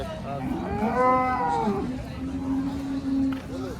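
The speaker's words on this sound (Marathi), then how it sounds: "बघा मित्रांनो गाई यायचं आहे का अजून किती गाई" Cows at a cattle market in Kopargaon give a long, loud, drawn-out moo followed by lower lowing, with crowd chatter and speech around them.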